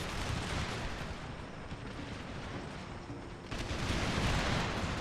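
Cannon fire in the strategy game Empire: Total War: a dense, continuous roar of overlapping booms and battlefield rumble that stays loud throughout and swells further near the end, with no voices.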